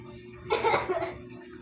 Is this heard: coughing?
yes